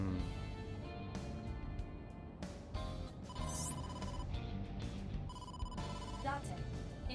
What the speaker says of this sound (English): incoming call from the boss